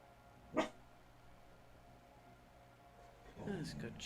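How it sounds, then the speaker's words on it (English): A dog barks once sharply, then again a few seconds later, fairly near but faint against a quiet outdoor background. "Hopefully my dog will settle down here."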